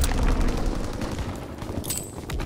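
Multiplayer gunfire in Call of Duty: WWII during a Domination match, with rapid bursts and overlapping shots firing loudly and continuously. There are dense rattling volleys and a few heavier booms, and no clear talk over them.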